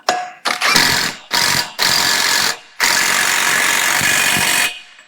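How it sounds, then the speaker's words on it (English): An impact wrench snugs the front wheel bearing retaining nut on a Chevy or GMC truck in four loud, close bursts of buzzing hammering. The bursts come in quick succession, and the last one is the longest. "I'm just going to snug it up with the impact"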